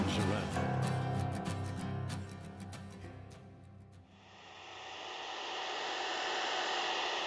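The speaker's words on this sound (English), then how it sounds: "Would you mind asking her just to stop hoovering?" A household vacuum cleaner runs as a steady broadband whoosh, rising and settling into a constant drone in the second half, with music and voices more prominent over the first part.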